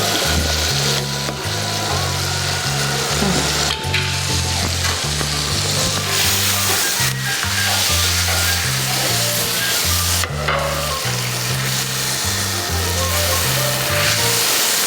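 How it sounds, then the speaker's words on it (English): Loud, continuous sizzling and crackling of beef fillet frying in butter in a hot pan, with a steady background pulse of low music. "I'm just going to take my beef fillet, and that is the sizzling sound you want to hear."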